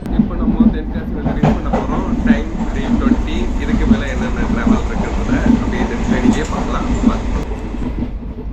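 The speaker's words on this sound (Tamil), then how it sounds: "இப்போது ட்ரெயின் உள்ளே என்ட்ராக வருதாங்க கடையநல்லூர் ரயில்வே ஸ்டேஷன்" The Chennai Egmore–Quilon express rolls into Kadayanallur railway station with a continuous low rumble and rhythmic clacking of wheels over rail joints, loud and close, with faint voices under the noise.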